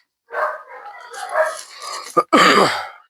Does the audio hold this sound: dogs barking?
yes